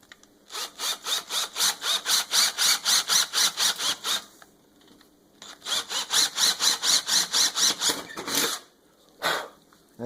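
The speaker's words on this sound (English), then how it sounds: "I will go get a drill bit and drill 2 small holes" An electric drill boring two small holes for a mower light bar mount, its motor rising and falling in quick regular pulses through two long bursts and then a short final burst, loud and close with no talking.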